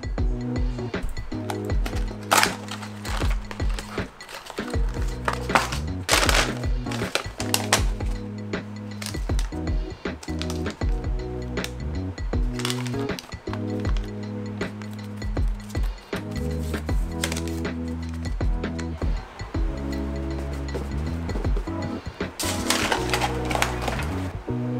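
Unpacking a Korean Covid-19 home test kit: plastic packaging crinkles, small parts clink and tap, and boxes rustle in close, irregular handling noises throughout.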